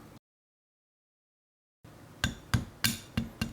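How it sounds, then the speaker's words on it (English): A steel extractor is pushed back into the slide of a 1911 pistol, giving a run of five sharp metallic taps and clicks at close range after a short silence. "And let's put that extractor back in."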